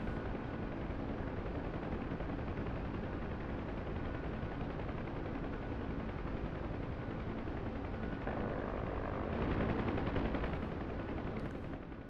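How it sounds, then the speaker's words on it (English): Bursts of Huey helicopter gunfire heard at a distance in the DCS World combat game, forming a continuous dense rattle of rapid shots that swells louder near the end. "The guns sound far better at range than what you hear from your own helicopter."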